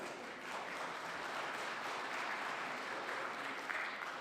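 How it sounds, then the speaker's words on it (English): Steady audience applause fills the whole stretch, a dense, even wash of clapping from a sizeable crowd at a capital markets event, with no voices breaking through. "Round of applause already."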